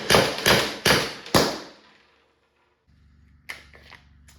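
A Byrna less-lethal launcher fires a rapid magazine dump of four sharp, loud cracks about half a second apart, each ringing out briefly. Silence follows, then a low mechanical hum with a couple of faint clicks.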